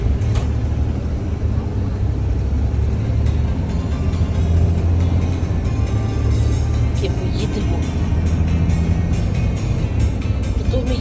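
Car driving along a street of private houses, a steady low engine and road rumble throughout, with a person talking over it.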